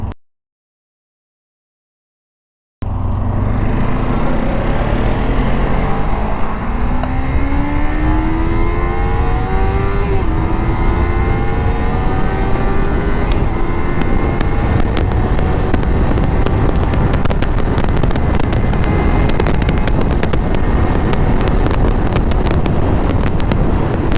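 A Kawasaki Ninja 300 twin-cylinder motorcycle accelerates hard on a highway after a moment of silence, engine pitch climbing through the gears, loud and close, with heavy wind rush over the microphone.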